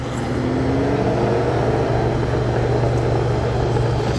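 A Ferrari 599 GTB Fiorano on the streets of Monaco gives a steady, loud engine drone that holds evenly for a few seconds, with a low rumble and faint rising tones, and no voices.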